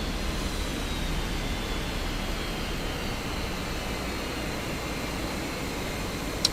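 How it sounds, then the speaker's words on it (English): Steady, broadband roar of Airbus A320 jet engines in a flight simulator game, with a faint high whine over it that runs on without pause, then ends in one brief click. "listen to those engines purr"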